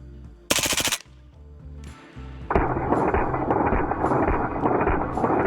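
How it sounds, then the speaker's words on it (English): Simulated full-auto fire from a replica HK MP5 SD: a loud burst of rapid shots opens, followed after a pause by a long, dense rattling roar that keeps going to the end. "pull the trigger rapidly and cyclically along with the gun, which is what simulates the full auto fire"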